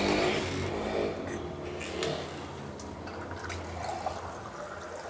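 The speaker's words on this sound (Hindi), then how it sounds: "आपने इसमें 1 गिलास पानी ऐड करना है ताकि ये अच्छी तरह कुक हो जाए" Water poured from a glass into capsicum mince cooking in a pan, a steady close splashing fill lasting several seconds, with no talk over it.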